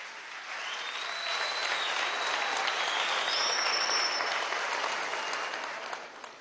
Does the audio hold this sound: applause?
yes